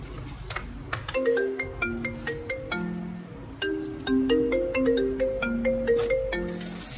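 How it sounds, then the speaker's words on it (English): A phone ringtone in the Roblox video game plays a bright, repeating chiming melody of short tonal notes, close and clear, in two phrases with a brief pause between them. "Phone ringing."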